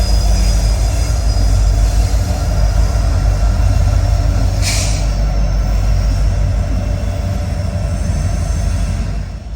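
A freight train led by the Lackawanna heritage unit locomotive rumbles steadily and loudly past at close range during a rainstorm in Greenville, South Carolina, with a brief high squeal partway through.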